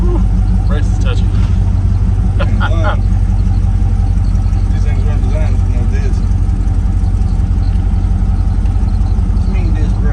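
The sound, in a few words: 1964 Chevrolet Impala driving, no power steering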